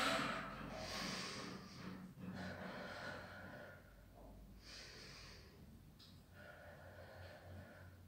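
Heavy breathing during a leg workout, a series of forceful snorting exhales and gasping breaths in uneven bursts, close but quiet, with no talking.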